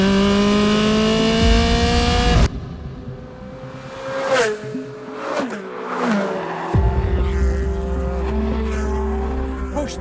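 A Ferrari V8 sports car, one of the 360 CS, 430 Scuderia or 458 Speciale, roars at high revs, then cuts sharply on a paddle downshift into crackling blips and pops before the engine note settles and rises again.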